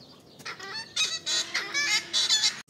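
A macaw parrot in a zoo in Adjara, Georgia, gives a series of loud, harsh, honking squawks in short repeated bursts, close by, with no talk over them.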